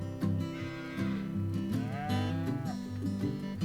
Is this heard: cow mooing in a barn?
yes